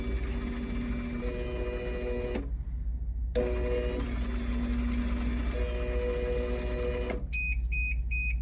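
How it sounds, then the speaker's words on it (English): A Guardian 928 door opener motor drones and hums for several seconds during a force-learn cycle, then stops, and a quick series of three high electronic beeps sounds right at the end. "One, two, three beeps. It's learned the program"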